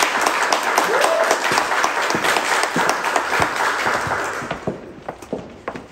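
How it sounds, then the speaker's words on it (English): Applause from community members at a gathering of state leaders, a steady burst of clapping for several seconds that thins into scattered claps at the end. "A big applause for her"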